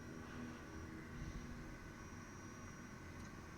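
In Microsoft Flight Simulator 2020, a Kodiak turboprop taxis with a faint, steady engine hum and propeller drone, quiet and unchanging throughout.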